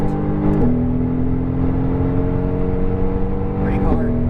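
Mercedes-AMG GT R engine pulling hard after an upshift on a racing circuit, a sustained loud droning tone that steps down in pitch at the shift then climbs steadily, with a second gear change near the end and an instructor's voice over it.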